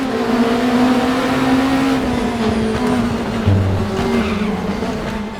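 A Lamborghini LMDh race car in the RaceRoom racing game climbs a hill, its engine droning loud and steady with shifting pitch, while tires squeal and skid continuously underneath throughout.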